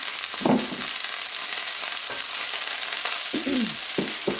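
Onions and peppers sizzle in a lightly oiled skillet with a loud, steady hiss, broken by a few short scraping stirs.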